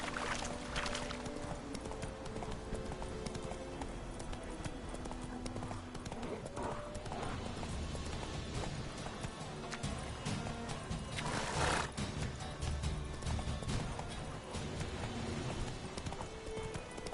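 Horse hooves gallop in a steady clip-clop rhythm through The Witcher 3, the rider urging the horse toward Novi Sad, with dense game music and ambience layered around the hoofbeats.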